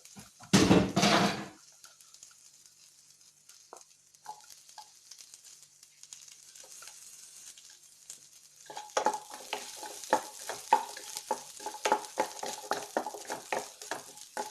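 Garlic and ginger fry in a pan for paneer tikka masala, a soft crackling sizzle with sparse pops. A loud burst of noise comes near the start, and later there is busier spattering with stirring clatter.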